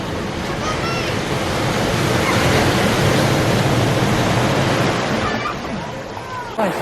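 Ocean waves at the beach roll and wash in a loud, constant surf roar with wind buffeting the microphone, while people talk and shout over it.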